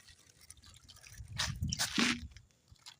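Close-up wet slurping and gulping of water, a few swallows with liquid squishing, fairly quiet and brief.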